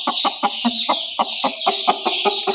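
A Golden Misri hen, recovering from a broken leg, clucks close up in a quick, steady series of about a dozen short, rhythmic notes.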